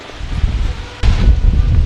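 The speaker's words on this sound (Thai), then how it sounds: "ฟังเสียงลมนะครับผม" Wind blows through the trees over a shaded spot on a cattle farm, a steady rushing and rustling that swells into a stronger gust halfway through, close and loud with rumbling buffeting.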